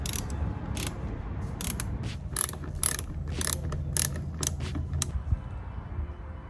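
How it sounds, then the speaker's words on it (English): Screws driven into the plastic of a Jeep Renegade while mud flaps are fitted, heard as close ratcheting clicks in uneven bursts over a low mechanical hum, no voices. "you're just screwing these into plastic, so you don't want to go too hard and end up stripping it"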